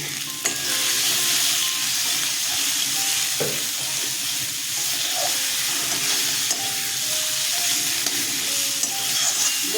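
Tomatoes with salt sauté in a hot pan for a potato, eggplant and tomato fish curry, giving a steady close sizzle with occasional stirring scrapes across the whole stretch.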